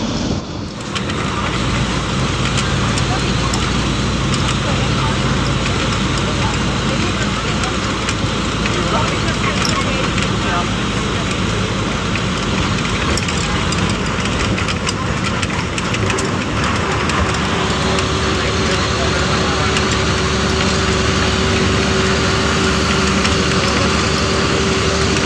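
A TNSTC government bus on the Coimbatore to Thevaram route rolls past a depot, its engine droning loudly and steadily with road rumble throughout, under a voice talking from inside the bus.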